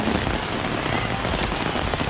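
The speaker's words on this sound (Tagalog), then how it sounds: "Lumalakas ang ulan." Heavy rain pours down steadily in Thailand, a dense, loud hiss of drops drumming on a surface with no pause.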